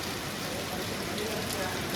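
Rain falling steadily in a dense, even hiss, moderately loud and close, with no clear voices.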